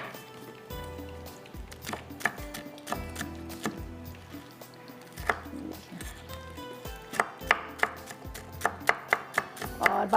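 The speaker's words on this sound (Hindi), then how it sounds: "यहाँ पर आपने नगेट्स को करना है बारीक बारीक चॉप" Chicken nuggets being finely chopped with a knife on a board, irregular thuds and taps that speed up into a quicker, louder run of chops toward the end.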